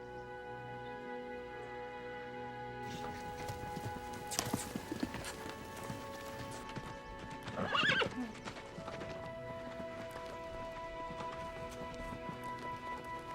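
A horse whinnies loudly twice, with hooves clip-clopping at a walking pace over a steady background hum, close by and fairly clear.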